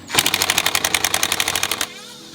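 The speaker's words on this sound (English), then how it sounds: "unscrewing the torque screws" A power tool rapidly unscrews the torque screws holding a BMW intercooler, a fast loud rattling burst of about a second and a half that stops abruptly.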